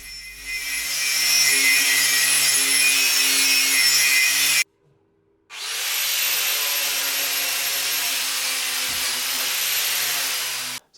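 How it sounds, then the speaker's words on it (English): Angle grinder fitted with a brass wire wheel scours rust off a Startrite drill part. A loud, steady abrasive whine runs for several seconds, stops briefly, then resumes at the same level. "I'm going to use a brass wire wheel in the angle grinder and just go over the whole thing and clean it up"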